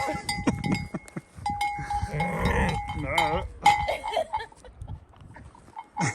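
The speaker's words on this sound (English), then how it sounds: "They're a very bossy sheep." Sheep bleat in short, wavering calls close by, mixed with livestock shuffling and a person speaking briefly.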